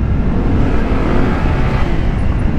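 A Honda ADV 160 scooter at full throttle holds a loud, steady high-RPM engine drone, heard close up under rushing wind.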